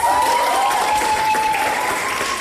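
Audience applause for children performing a Cape Verdean traditional dance portraying the figure of the Cape Verdean woman: dense, continuous clapping from a crowd, steady throughout with a faint sustained tone running underneath.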